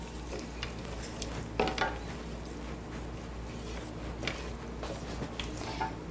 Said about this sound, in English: now I'm going to put my vegetables right back in this mixture and give it a nice little stir.